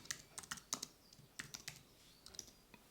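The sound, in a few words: typing on a computer keyboard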